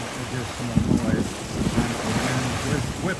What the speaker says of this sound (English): That's why you get a little more wind noise here